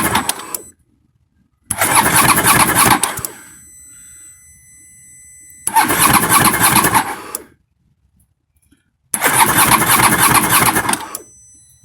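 An Aprilia Shiver motorcycle engine cranks over in three loud bursts of whirring starter churn, each lasting one to two seconds, separated by silent gaps, with the fuel tank raised during a throttle body strip-down.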